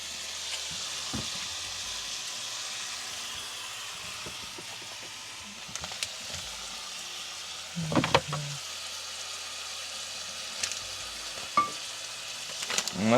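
Sausage frying in a pan at a campsite by a lake, a soft steady sizzle throughout with occasional clinks and scrapes of a utensil against the pan.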